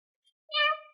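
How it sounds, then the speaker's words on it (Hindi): A cat gives a single clear, high meow that rises and fades, heard close and alone after a faint brief sound in the near silence. "ये तो मेरी बिल्ली की आवाज है।"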